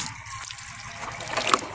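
Spring-fed water trickles from a pipe on farmland, a light, bubbling flow heard close up in a short burst with no talk over it.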